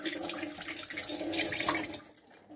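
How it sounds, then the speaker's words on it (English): Hands being washed under running tap water, a steady splashing stream at close range that cuts off near the end. "I need to wash my hands."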